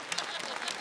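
Audience applause at a wedding celebration honouring an Afghan war veteran, a short burst of steady clapping from a crowd.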